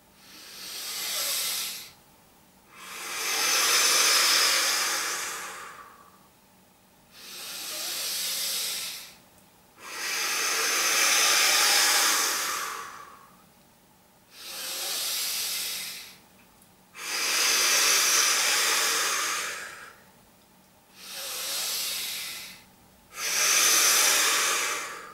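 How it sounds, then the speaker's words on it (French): Calm, slow breathing exercise: eight long, breathy inhales and exhales, near and alone, each lasting a few seconds, separated by short pauses in an even rhythm. "un peu de respiration calme et lente"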